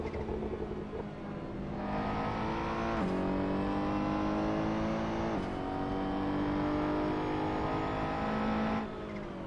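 A race car engine in a racing game climbs steadily through the revs, with two sharp gear changes before a rise back up and a cutoff near the end. The engine is loud and close and continuous throughout, with no voices.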